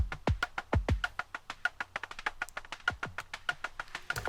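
A percussive groove built from cut-up Origin Sounds Atmospheres samples, with rapid tiny clicks, soft taps and occasional deeper pitched hits in a steady, busy rhythm, fairly quiet and alone.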